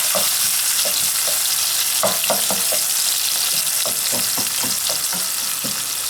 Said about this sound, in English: So we are going to put our onions in. I'm using the same oil from the Koobi to start with my sauce